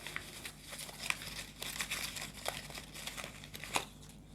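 A deck of Marseille tarot cards is shuffled in a quiet room, giving soft, irregular papery riffles and crinkling rustles, close and fairly faint.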